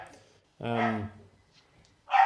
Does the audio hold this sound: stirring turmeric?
no